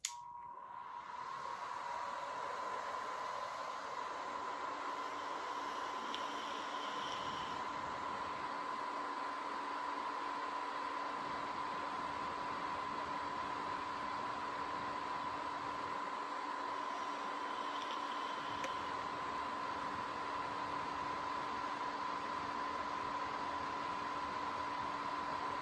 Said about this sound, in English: So right now I'm going to turn it on and blow up some smoke towards it